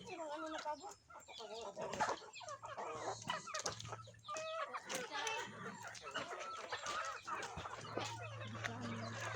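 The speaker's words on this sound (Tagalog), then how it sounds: "Mga manok na nakakulong." Many caged chickens cluck and crow together in a busy, noisy chorus, with occasional human voices mixed in and a low hum underneath.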